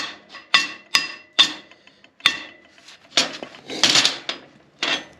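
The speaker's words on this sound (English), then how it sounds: "We're gonna knock this off real time with that hammer" Sharp metallic hammer strikes knocking plasma-cut dross off steel ring out one after another at an uneven pace, some followed by brief scraping and clattering.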